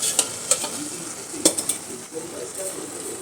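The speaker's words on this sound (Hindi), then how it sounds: "तो इसको घी के साथ और भून लेते हैं" Bottle gourd halwa sizzles in ghee in a pan while a spoon scrapes and clinks against the metal in irregular strokes, close and clear with a soft frying hiss underneath.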